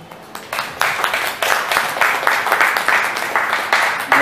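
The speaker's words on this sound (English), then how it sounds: "please clap for ourselves" Audience applause at a monthly business association meeting, building from scattered claps into steady, moderately loud clapping with distinct individual hand claps near the listener.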